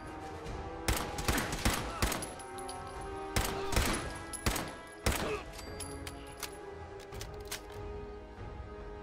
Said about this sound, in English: I think they're shooting with laser pistols